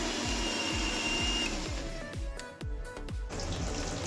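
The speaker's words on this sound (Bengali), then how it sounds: "বাকি কিছুটা অংশ মিক্সিতে বেটে নিলাম" A kitchen mixer grinder whirs steadily while grinding chopped onions, with a repeating rhythmic thump from the jar, fairly close, then the motor slows and stutters near the end.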